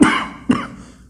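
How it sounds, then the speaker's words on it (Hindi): A man coughs twice in quick succession, close and fairly loud, the second cough slightly weaker, with a brief throaty rasp trailing off into quiet. "ये खांसी ना कभी भी आ जाती है"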